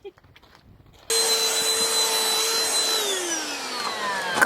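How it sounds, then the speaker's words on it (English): A vacuum cleaner hoovering cut hair off the floor after a home lockdown haircut switches on abruptly and runs with a loud steady whine, its pitch dropping slightly toward the end. "Mazzy, that is a Hoover"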